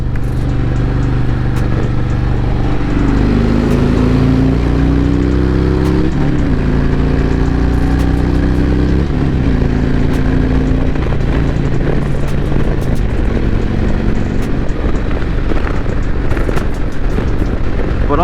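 A 2020 Harley-Davidson Road Glide Special cruising on a highway, its engine a loud steady low drone with shifting tones as it rides, wind rush throughout, no voices.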